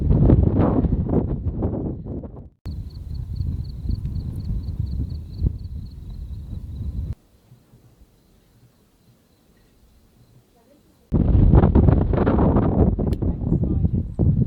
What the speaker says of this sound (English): The wind will subside. It's just temporary since we're in an open spot.